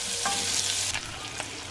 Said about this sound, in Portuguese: E agora eu tô fritando aqui a calabresa.